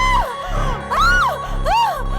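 Sophie, a young woman, screams over a phone line in a horror scene. Several loud, shrill cries rise and fall in quick succession, filling the short stretch.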